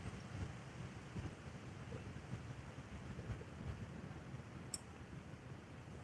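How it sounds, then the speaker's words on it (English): Steady wind buffets an outdoor camera set up beside a flooded ditch for catfish fishing, a continuous low rumbling roar with gusty swells and no talk, constant and close to the microphone. "Wish that wind would stop moving that camera."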